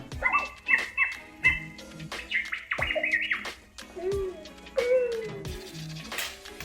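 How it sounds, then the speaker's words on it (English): Rapid R2-D2 style electronic beeps, warbling whistles and chirpy sweeps from a small droid toy, close and fairly loud, bursting in quick uneven clusters. "Now this blue one is supposed to make it sound like R2-D2 from the movies."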